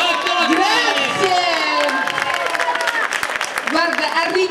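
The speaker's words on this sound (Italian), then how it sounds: "accogliamola con un grande applauso" At an evening festival show in Lamezia, an audience greets a presenter with loud, sustained applause mixed with cheers and excited voices, the clapping dense and close throughout.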